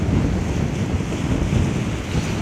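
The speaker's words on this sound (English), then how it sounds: "They're big waves." Big ocean surf, sets around ten feet high, breaks on the shore in a constant loud roar with wind buffeting the microphone and no voices.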